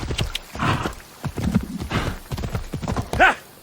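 Rhythmic clip-clop of horse hooves trotting steadily in Assassin's Creed Odyssey gameplay, with a brief whinny-like call near the end; fairly close and moderately loud.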